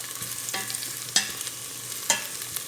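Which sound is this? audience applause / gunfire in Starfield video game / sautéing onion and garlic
sautéing onion and garlic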